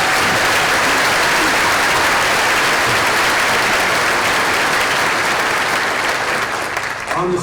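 An audience at a school district keynote event applauds its teachers with loud, steady, dense clapping that fills the whole stretch and tapers slightly at the end.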